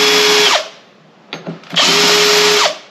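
A power drill deburrs holes in a disc brake part for a Classic Mini Cooper S, giving two loud, close bursts of whirring with a short quiet pause and a brief spin-up between them.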